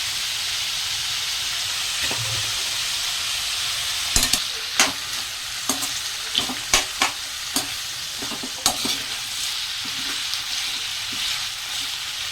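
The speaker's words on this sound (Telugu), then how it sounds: "ఇప్పుడైతే కొంచెం కరివేపాకు వేసుకుందాం." Curry leaves sizzle in hot oil in a pan for an egg curry, a steady frying hiss broken by repeated sharp crackles and pops as the leaves hit the oil, with no talk.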